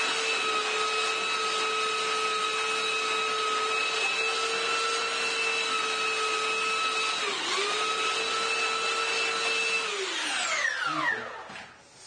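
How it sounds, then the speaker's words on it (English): A Scrabble tile is sanded with 40 grit sandpaper on a power tool in a CNC workshop, giving a loud, steady whine with strong tonal hums that holds for about ten seconds, dips briefly midway, then winds down as the machine spins to a stop. "I'm just going to use the 40 grit just to get most of the ink off"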